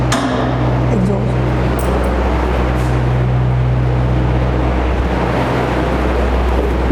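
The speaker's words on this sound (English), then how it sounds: "there is a proper exhaust fan running there" A school washroom exhaust fan runs loudly and steadily, a constant droning hum with a low tonal whine that fills the whole stretch without pause.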